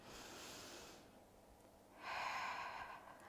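Two soft, airy inhalations drawn in through the nose during a seated Pilates diaphragmatic breathing exercise, close and gentle with a pause between them, alone without talk.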